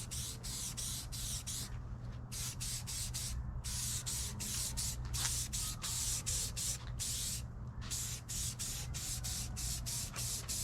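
Repeated short bursts of spray paint hissing onto an FMS Ranger model aircraft as a light coat goes on, close and fairly quiet, with brief gaps between passes and no speech.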